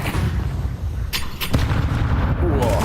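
Grenades burst during a professional Counter-Strike match on Mirage, in a tournament group stage, as a dense run of booming detonations and rumbling blasts over a continuous game din, with a commentator talking.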